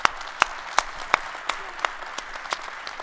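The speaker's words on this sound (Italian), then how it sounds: "facciamoci un applauso" An audience at the opening session of a Milan event applauds with a scattered round of hand claps, distinct individual claps spaced across a steady crowd wash, moderately loud with no talk over it.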